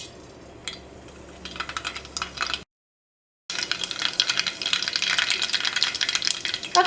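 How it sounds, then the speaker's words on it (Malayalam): Mustard seeds crackle and pop in hot oil, a faint spattering that drops to a brief silence, then returns as a denser, louder run of sharp spluttering crackles. "ഈ ചൂടായ ഓയിലിലേക്ക് കടുകിട്ട് പൊട്ടിക്കുക"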